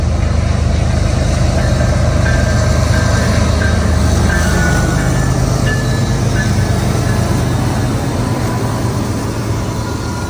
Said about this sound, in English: Finally, CN, a 422 with a GP38-2 trailing third.